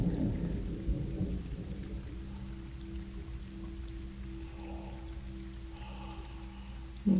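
A thunderstorm rumbles over a woodland cottage setting: a low, rolling roll of thunder fades slowly under a continuous soft patter of rain, with a fresh rumble starting at the very end.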